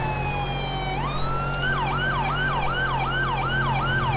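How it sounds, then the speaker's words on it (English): A police car siren in GTA V with the LSPDFR mod winds up from a steady wail into a fast repeating yelp, loud and close over a constant engine drone. "Hold on, I'm gonna turn my siren."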